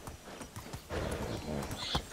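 Horse hooves clip-clop at a steady riding pace in the medieval game Medieval Dynasty, close and fairly loud, with a brief whinny-like sound near the end.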